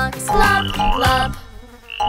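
Cartoon speckled frogs croaking in a children's nursery rhyme song, a loud, close run of bouncy, tonal croaks filling the clip with a brief pause near the end.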